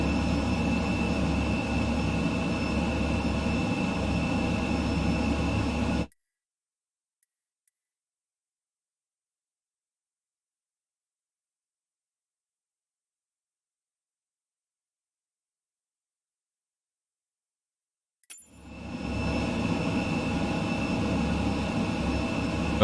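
Fighter aircraft engine in the Microsoft Flight Simulator 2020 game: a loud, steady jet roar that cuts to near silence for about twelve seconds, then swells back in at full strength.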